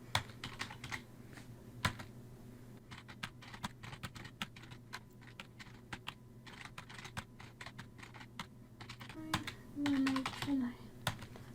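Quiet close typing on a computer keyboard, irregular clusters of light key clicks running throughout, with a brief murmur of speech near the end.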